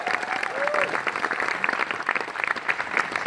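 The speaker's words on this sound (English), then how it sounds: "Round of applause for Sasha and Bayley." A live audience applauds Sasha Banks and Bayley with loud, lively clapping and crowd noise, and voices are heard over the applause.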